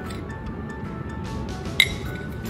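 A single light glass clink rings out once, brief and bright, over a quiet background hiss.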